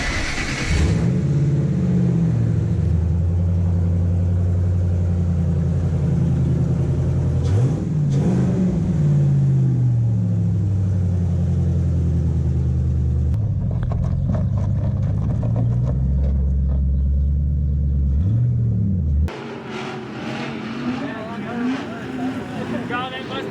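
A Ford Mustang engine cranks over and revs hard, rising and falling in several loud throttle sweeps before settling, with people talking around it during a wrap install for a drift car.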